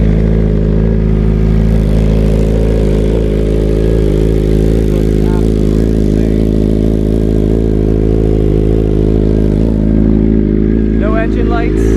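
A full carbon BMW M1000RR superbike idles as it warms up, a loud, steady, close-miked engine drone with an even pulse, running unbroken and without revving.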